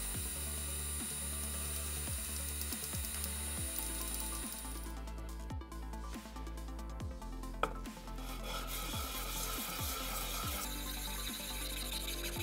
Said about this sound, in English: Sanding these pieces did take a few hours